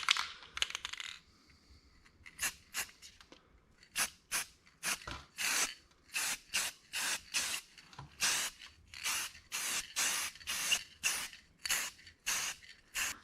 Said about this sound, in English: after a couple of coats of spray paint